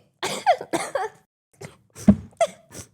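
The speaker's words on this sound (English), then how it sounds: "Maybe if I just like slow down, I won't cough as much." A series of harsh, bursty coughs, close and loud, coming in quick clusters with short pauses between them.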